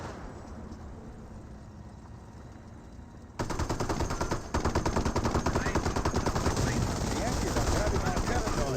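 Rapid machine-gun fire in Company of Heroes, a dense unbroken rattle of shots starting abruptly and holding loud and steady, with a faint background battle rumble beforehand.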